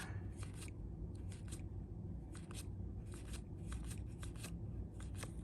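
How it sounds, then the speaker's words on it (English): Baseball trading cards being flipped over one after another, a quick run of crisp, close card snaps and flicks repeating at an uneven pace over a steady low background hum. "My arm's getting sore from flipping the cards over"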